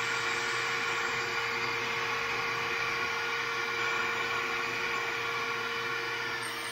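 A homemade DIY extractor runs steadily while draining milky oil from a pressure washer, giving a constant loud motor whine and airy hiss with no break for the whole stretch.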